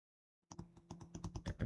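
Keyboard typing starts after a short silence: a quick run of close, crisp keystrokes entering text into an Excel spreadsheet, growing slightly louder toward the end, with no voices.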